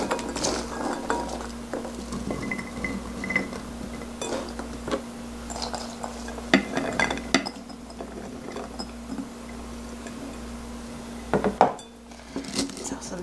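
Peeled garlic cloves tipped into a glass jar for pickling, giving repeated clinks and clatters of cloves striking glass, with a few sharper knocks near the end, close and moderately loud over a low steady background hum.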